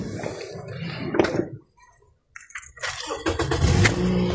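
A car's self-starter cranks briefly, pauses, then the engine catches and settles into a running idle, close and fairly loud.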